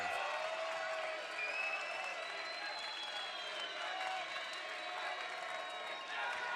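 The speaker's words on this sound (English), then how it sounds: "Crowd comes alive." Basketball arena crowd at an NCAA college game between Stephen F Austin and Abilene Christian, a broad sustained roar of cheering and applause that fills the hall evenly throughout.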